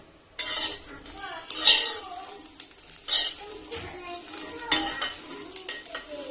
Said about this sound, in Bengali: দেখুন রসুনটা প্রায় ভাজা হয়ে গেছে